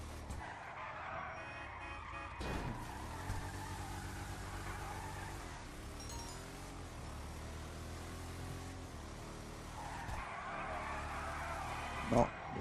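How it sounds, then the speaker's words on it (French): A car taking a corner in GTA V, its engine droning steadily with faint tire scrub and skidding, moderately loud under someone speaking French. "Bon, virage, elle est pas très... Non, niveau virage, elle est pas très réactive."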